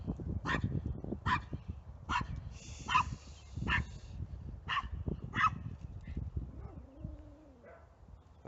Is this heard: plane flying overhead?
no